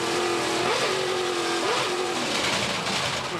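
A touring race car engine roars loud and close from an in-car camera on a climb through the Newcastle street circuit, its steady high revs broken by two brief dips and rises as the driver shifts.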